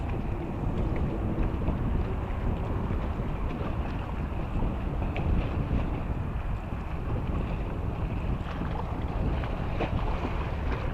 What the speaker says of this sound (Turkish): sesim az geliyor olabilir. Rüzgar fazla.